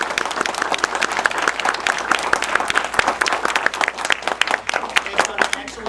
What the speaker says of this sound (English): One more round of applause for all of our.